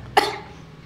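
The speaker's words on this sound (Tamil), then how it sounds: "அது எப்படி வீடியோ ஸ்டார்ட் பண்ண பிறகு உடனே இவ்வளோ இருமல் வருது?" A single sharp, close cough bursts out once, then trails off into quiet room tone with no talking.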